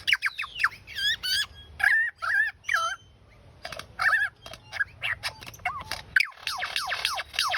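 A bird imitates a kookaburra call with loud, warbling, rising and falling squawks in rapid bursts, pausing briefly between phrases before a dense cackling run at the end.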